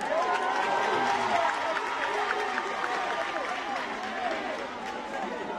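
A community crowd during a presidential visit to the Culvert community in Sierra Leone claps and cheers steadily throughout, a dense, moderately distant wash of applause with scattered voices mixed in.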